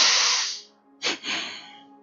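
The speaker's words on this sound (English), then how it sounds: "It's a short and then a long breath." A double inhalation drawn through the nose during a martial arts and yoga breathing exercise: a long airy breath, a brief pause, then a shorter sharp intake followed by a longer one, close and fairly soft with no talking.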